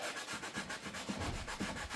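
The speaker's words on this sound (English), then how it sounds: "I'll come through and I'll sand with the grain as you're supposed to." Steady back-and-forth hand sanding of a quarter-inch roundover wood edge with a sanding sponge, with the grain, a rhythmic scratchy rubbing in quick even strokes, close and continuous.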